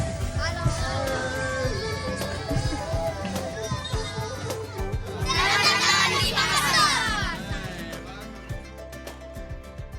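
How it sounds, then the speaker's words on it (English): A big crowd of children shouting and chattering at night in Makassar, Indonesia, a dense lively din that swells louder near the middle, with someone speaking over it. "Tonight has been crazy. Such a big crowd."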